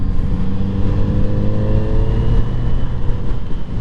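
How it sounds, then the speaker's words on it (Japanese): A Kawasaki Z900RS large naked motorcycle accelerating on a road with traffic, its engine drone rising steadily and continuously up close, mixed with rushing wind noise throughout. "さあちょっと加速してみよう。"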